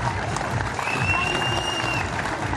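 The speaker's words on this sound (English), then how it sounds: "Give a big round of applause one more time," A crowd applauds at a STIHL Timbersports Australian Trophy 2021 medal ceremony, sustained dense clapping that carries evenly from start to finish.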